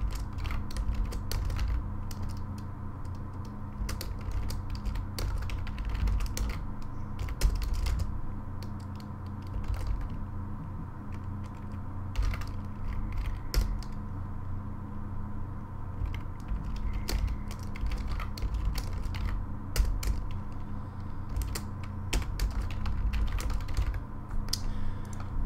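C++ code being typed on a computer keyboard, a steady run of soft clicking keystrokes over a low background hum, continuous and close, without speech.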